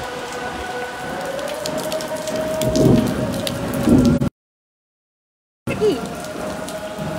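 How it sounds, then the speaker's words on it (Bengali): Heavy rain pours steadily with a low thunder rumble, a short silent gap midway, and a brief spoken word. "অনেকক্ষণ বৃষ্টিতে ভিজবো আজকে।"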